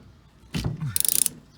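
A T15 Torx driver undoes a wiper bolt on a Ford Focus ST225, giving a brief clunk followed by a quick, close run of sharp ratcheting clicks.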